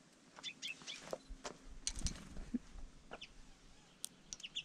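Small birds at a mountain viewpoint on Madeira give scattered, quick high chirps and twitters, faint and irregular over a quiet outdoor background.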